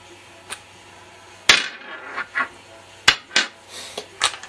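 Back cap of an Intimidator paintball marker being unscrewed gives off a series of small clicks, scrapes and metallic taps, close and fairly quiet.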